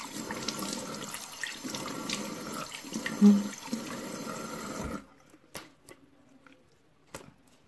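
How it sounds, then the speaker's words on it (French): Tap water runs into a sink during a face rinse, a steady splashing stream with one louder splash, then it stops abruptly and a few faint drips and clinks follow. "Et après, on rince. Avec de l'eau fraîche, ça fait du bien."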